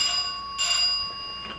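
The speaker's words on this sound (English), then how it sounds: "What the hell are those bells? Keep hearing them. There's 2 bells, sir." A pair of bells signalling that the First Lady is on her way up, in a White House setting: a bright ringing tone with a second strike partway through, both lingering and fading, heard alone.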